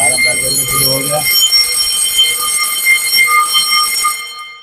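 Loud continuous ringing from a fire alarm bell wired to a 16-zone control panel, briefly under a voice at the start, then alone until it cuts off near the end.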